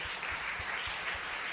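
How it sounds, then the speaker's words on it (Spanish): A congregation applauds during a Christian sermon in church, a steady wash of mixed clapping that sounds faint and somewhat distant, with no voices over it. "Un aplauso de gloria al Señor."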